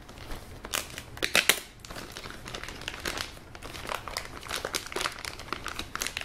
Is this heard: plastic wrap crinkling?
yes